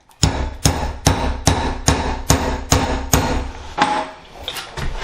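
A hammer strikes a tool that is turned to work a stuck tub faucet seat loose, giving about eight sharp, evenly spaced metallic knocks up close, with no talk.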